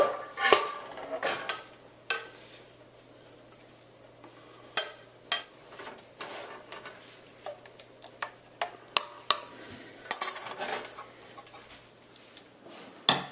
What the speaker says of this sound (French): On transfère notre sauce dans le bol.